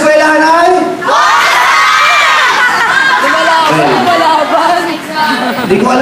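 A large crowd of schoolchildren shouts and cheers loudly and close, a continuous roar of many excited young voices rising and falling over several seconds.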